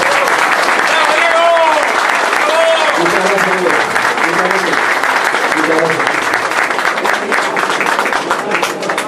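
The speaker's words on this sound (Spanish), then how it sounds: "un fuerte aplauso para él" Loud, sustained applause from a crowd fills the whole stretch, with a few voices and cheers rising briefly above the clapping.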